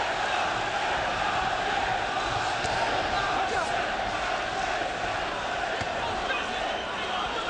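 A heavyweight boxing crowd in Atlantic City in 1996 roars in a continuous, dense wash of cheering and shouting, with some scattered sharper calls rising over the din.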